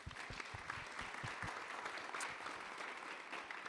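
Audience applause for panelists at a summit session in Paris, continuous crowd clapping at a moderate distance throughout.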